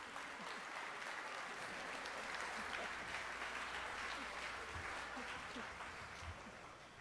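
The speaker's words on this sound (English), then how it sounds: "So we're going to give everybody a rousing round of applause." An audience at a friendship dinner applauds, dense sustained clapping from a large room that holds steady for several seconds before easing slightly at the end.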